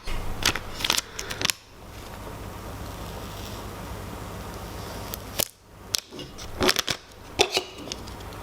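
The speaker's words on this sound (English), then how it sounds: "I'm gonna scrape now the letters from the transfer tape" Scraper rubbing vinyl letters from transfer tape onto a jar for pantry labels, a steady close scraping rasp with sharp clicks and taps before and after.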